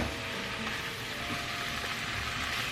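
Flour being stirred into a hot pan to form a thick, gloopy paste for a homemade turkey and leek pie, a steady close sizzle with soft scraping throughout, no talking.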